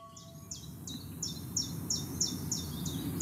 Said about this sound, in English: Many of the earliest arrivals are warblers, such as the chiffchaff.